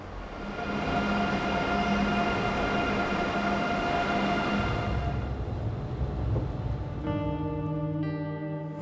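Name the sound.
train travelling through Andalusian landscape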